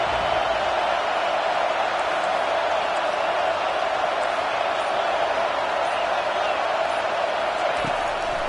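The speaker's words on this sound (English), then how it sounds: "this home crowd is fired up and ready to make a difference" A home stadium crowd roars at a college football game, Michigan at Auburn, a dense steady wash of cheering and noise that stays loud and unbroken throughout.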